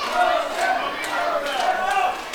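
A wrestling audience at a World League Wrestling event keeps up a steady, loud cheer of mixed shouting voices urging on a wrestler named Moses, continuous throughout with no break.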